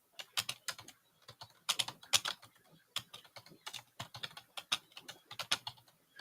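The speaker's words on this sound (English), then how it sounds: "Why am I typing?" Someone types on a computer keyboard in quick irregular bursts of clicky keystrokes, faint and close, with no talking over them.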